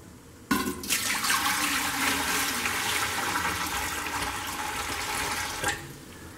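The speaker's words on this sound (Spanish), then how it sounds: "Le vamos a agregar agua." Water pours steadily into a steamer pot on the stove for several seconds, a bright continuous splashing rush that starts abruptly and cuts off near the end, with no talking.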